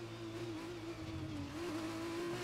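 An F1 car in the F1 2021 racing game accelerates steadily, a continuous droning engine note rising slightly in pitch, heard alone at moderate level with no talk.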